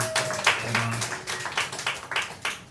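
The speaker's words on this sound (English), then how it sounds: "Clap if you've ever protested anything." A small comedy-show audience claps in scattered, uneven bursts, a few sharp hand claps close by and others softer, with no steady rhythm and no talking over it.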